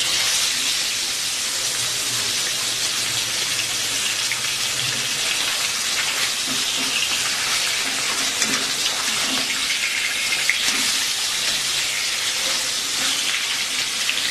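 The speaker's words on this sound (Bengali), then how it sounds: "এভাবে উল্টে পাল্টে আমি সবগুলো মাছ ভেজে নেব আস্তে আস্তে করে।" Pomfret fish shallow-frying in a pan, a dense, even sizzle like heavy rain that holds steady and close for the whole stretch, with faint low clatter now and then and no voices.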